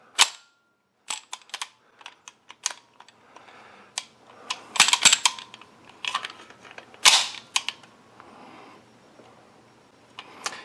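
A loaded magazine holding two rounds is slid into a compact FN pistol with metallic clicks and snaps, followed by a louder slide-release clack, a close, sparse series of sharp mechanical sounds.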